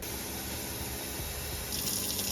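Tap water runs steadily into a measuring cup for chicken broth, a continuous close gush that brightens toward the end as the cup fills.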